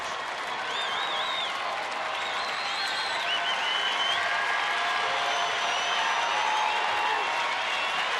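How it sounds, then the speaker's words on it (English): A baseball stadium crowd cheers and applauds for the Rangers during a late-season game against the Angels in Texas, a continuous, fairly distant roar with scattered whistles throughout. "Crowd trying to get behind Joe Nathan and the Rangers."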